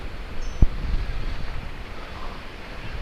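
Wind blows around a redwood treehouse, a steady broadband rush with one sharp knock early on and a low rumble throughout, loud and close to the microphone.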